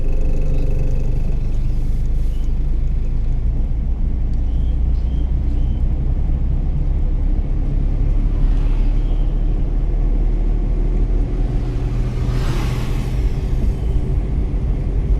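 A car accelerating during a driving lesson gives a steady, loud engine drone and low rumble that holds evenly throughout, close up with no talk over it.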